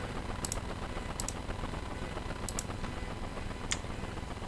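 Someone types on a Corsair K95 computer keyboard, a faint, scattered run of light key clicks over a steady background hiss.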